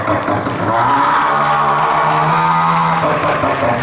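A human voice imitates the engine of a Kinetic Honda scooter with a continuous buzzing, rasping drone that rises and falls slightly in pitch, loud and close for about four seconds.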